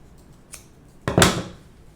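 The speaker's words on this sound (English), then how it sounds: "I'll just trim those threads." Scissors snipping threads on a sock owl craft: a faint first snip followed by a sharper, louder double cut, close and quiet in the background.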